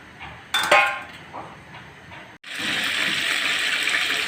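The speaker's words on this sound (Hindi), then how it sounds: "चिकन फ्राई हो रहा है।" Chicken frying in hot oil in a pan over high heat, a steady loud sizzle that starts suddenly and continues without letup, after earlier clinks of utensils against the pan.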